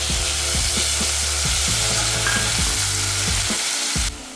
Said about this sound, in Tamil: இப்போது தக்காளி நல்லா வதங்கிடுச்சு.